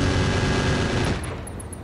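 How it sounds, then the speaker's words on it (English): Mech in a combat video game unloading every weapon at once, a dense roar of gunfire and blasts filling the first second and a half before trailing off, loud and close with no talk. "Firing all weapons."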